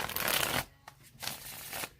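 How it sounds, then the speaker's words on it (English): Crisp papery riffling of tarot cards being shuffled, several bursts with short pauses between, close and clear with no talking. "I'm going to continue to shuffle the cards for you."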